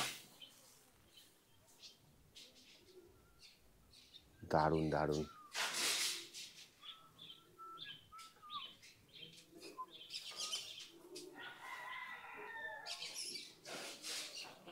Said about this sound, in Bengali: শুধুই পাখিদের কিচিরমিচির।